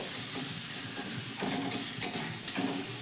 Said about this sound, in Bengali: এবার পেঁয়াজটাকেও আমি এর সঙ্গে ভেজে নেব একটু আদা রসুনের সঙ্গে